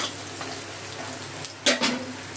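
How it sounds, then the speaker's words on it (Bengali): Chopped onions frying in oil after tempering, giving a continuous sizzle with a couple of brief, louder scrapes as they are stirred near the end. "ফোড়ন করে এর মধ্যে দিয়ে দিলাম পেঁয়াজ কুচি পেঁয়াজটা ভেজে নেবো"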